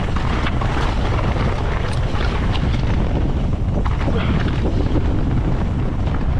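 Strong wind roars continuously across the microphone on a mountain ridge in Nevada, a loud, unbroken buffeting rush with no pauses.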